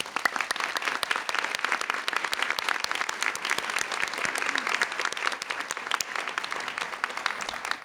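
A large audience applauds at a college Dean's List and 30-credit milestone celebration, a dense, steady wash of many hands clapping that holds at an even level throughout, with no voices over it.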